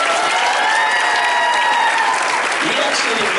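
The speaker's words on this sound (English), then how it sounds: "can you give Matt a round of applause?" A concert crowd gives a loud, continuous round of applause, with dense clapping filling the space throughout and faint voices and cheers mixed in near the end.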